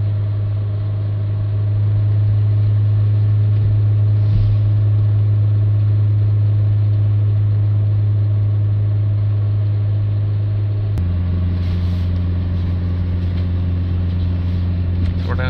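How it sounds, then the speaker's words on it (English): A Renault Trafic engine runs at raised revs during DPF cleaning, a loud, steady hum. Partway through it drops in pitch and shifts to a lower, rougher note, with no voices. "We're just going to hold the revs up a little bit longer, see how fast this soot can come down,"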